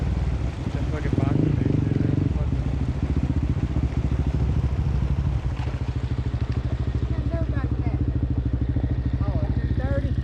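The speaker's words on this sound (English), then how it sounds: "Them bikes are real good for the trails." A 230 dirt bike on dusty trails gives a close, rapid putter that revs up and then settles into a steady pulsing idle, while people talk over it.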